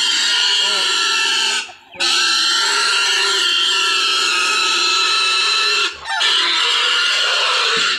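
Breeding sows grunting and squealing close by, with high drawn-out squeals over a constant din and two brief breaks in the noise.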